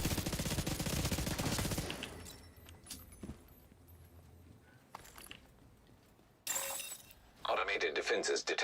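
Automated defense turrets fire in a video game shootout, with a dense loud burst of rapid shots at first, then quieter scattered impacts and sharp noises, and another hard burst near the end, voices talking throughout.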